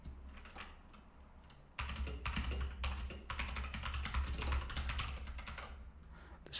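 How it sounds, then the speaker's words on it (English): A domain name is typed on a computer keyboard: quick, close key clicks run in uneven bursts, growing busier partway through, with no voices. "Now here, type in your domain name."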